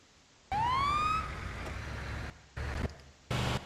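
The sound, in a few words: ambulance siren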